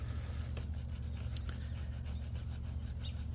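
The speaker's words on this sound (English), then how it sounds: "now I'm going to use my Scotch Brite pad. I'm going to clean up my mating surfaces" Scotch-Brite pad scrubbing the mating surfaces of an EGR valve from a 2014 Leisure Travel Vans Unity Sprinter, a constant close-up abrasive rubbing hiss with faint stroke pulses.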